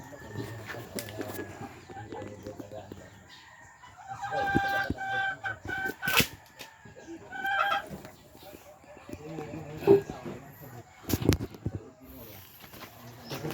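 Chickens clucking around a coop at feeding time, scattered clucks and squawks over ongoing bustle, with people talking throughout.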